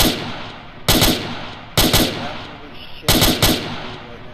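Gunfire in a military video game: three short bursts of loud automatic fire, each a quick double rattle, separated by brief pauses over low background noise.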